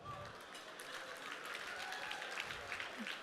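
Applause from an awards-ceremony audience at the ACF Awards, a steady wash of clapping held at an even level for a few seconds with no voices over it.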